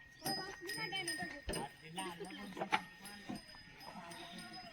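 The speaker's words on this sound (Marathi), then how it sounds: "लहान लहान शेळ्या कोकर" Young goats bleat in short, high calls amid a busy outdoor scene, with people talking nearby.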